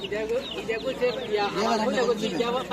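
Chickens cluck and chatter at a busy poultry and pigeon market, several birds close by making overlapping calls under people talking.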